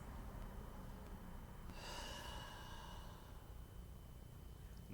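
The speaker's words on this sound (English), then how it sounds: "So just breathing here for a few moments." A single long, soft exhale rises and fades during yoga practice in child's pose, faint and breathy against quiet room hiss, with no talking.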